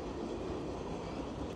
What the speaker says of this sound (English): Subway's going by.